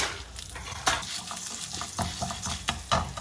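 Urad dal fries in a little oil in a pan, a close, crackling sizzle broken by repeated scrapes and clinks of a spoon stirring against the metal.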